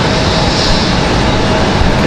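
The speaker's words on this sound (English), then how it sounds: "Delta 2164 coming in from Detroit, Michigan. It's going to be an A319." A Delta Airbus A319 arriving at Raleigh-Durham airport in strong wind gives a steady, loud broadband jet roar that holds evenly throughout, with no voices.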